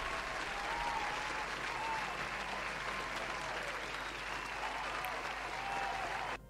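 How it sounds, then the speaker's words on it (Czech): Steady, sustained applause from a crowd, a dense wash of clapping heard alone at even strength for several seconds. "To si zaslouží aplaus."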